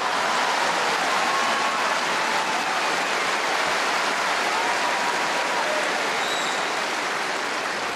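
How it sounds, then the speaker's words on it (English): A tennis crowd at the Australian Open applauding after a long rally, a dense, steady wash of clapping that holds loud and even for several seconds with no voices breaking through. "the crowd reaction, as you would expect after a rally like that"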